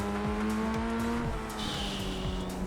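Race car engine in the iRacing sim, a steady high whine with gear shifts and several cars close together, loud and continuous with no talk.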